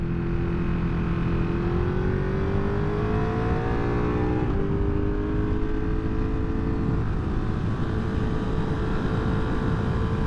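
A motorcycle engine climbs uphill on the Cherohala Skyway, droning loud and steady as its pitch rises through the gears, with a shift about midway, under constant wind rush.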